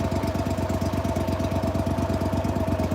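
A boat engine idles steadily nearby, a low, even, rapidly pulsing rumble with a faint tonal hum on top, no voices.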